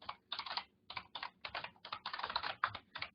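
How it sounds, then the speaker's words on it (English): Bursts of keystrokes on a computer keyboard as a login name is typed, quick irregular clusters of clicks close and clear with short pauses between, no voices. "Here I have to type my"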